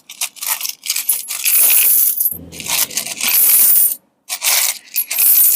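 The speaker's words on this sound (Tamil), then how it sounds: "அப்படியே ஓப்பன் பண்ணி இந்த பக்கமா கொட்டிடலாம்" Coins pour out of an opened money bank in loud, close bursts of jingling, clattering metal, with a brief pause and a short silent gap before more coins tumble out; no one talks.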